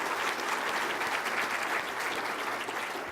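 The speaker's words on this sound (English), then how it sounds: "So I want to give them a round of applause" A conference audience gives a sustained round of applause on a center stage, many hands clapping in a thick, continuous, fairly loud wash with no speech breaking through.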